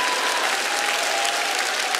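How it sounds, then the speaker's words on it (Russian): A studio audience at a comedy show claps steadily and densely, a continuous wash of applause at moderate distance with no pauses. "Ваши бурные аплодисменты"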